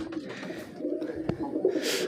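A Jalali pigeon, a wild pigeon that flies in to a house, gives low soft coos close by, with a sharp brief knock in the middle.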